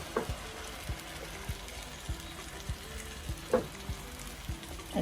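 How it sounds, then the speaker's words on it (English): Blended red pepper frying in a pan, a steady low sizzle with soft, regular stirring knocks and scrapes recurring about every half second, close up and without talk. "Now I'm going to start frying the pepper."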